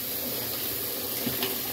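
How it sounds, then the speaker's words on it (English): Running water splashes steadily as raw chicken wing pieces are washed by hand in fresh water in a bowl or sink, a close, continuous faucet-like rush. "I'm literally washing each piece with my hand while it's in here."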